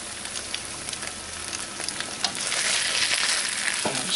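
Chicken sizzles in a hot pan, a constant crackle that swells louder partway through, with a few light scrapes and taps of tongs moving the pieces.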